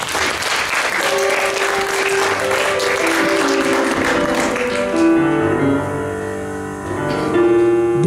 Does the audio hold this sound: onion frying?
no